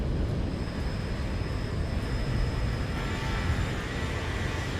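Boeing 737 in the X-Plane 12 flight simulator, a steady broad engine roar with a faint high whine, constant and loud throughout, no voices.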